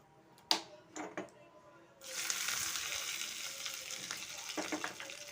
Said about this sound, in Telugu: బాగా ఫ్రై కావాలి.